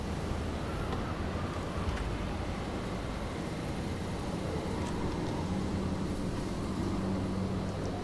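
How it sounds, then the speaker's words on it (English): A lawnmower-like engine in the Fallout: New Vegas video game drones steadily during a dust storm, a constant low rumble with no breaks and no voices over it. "That's a lawnmower."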